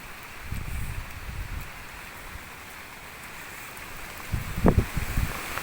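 A steady wash of heavy rain falls during a village storm, even and moderately loud, with a couple of brief low thumps and rustles near the start and close to the end.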